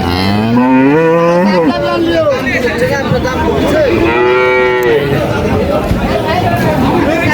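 Holstein Friesian and Indian border-cross dairy cows low repeatedly at a busy cattle market, several long, loud moos close by over a steady hubbub of crowd chatter and voices.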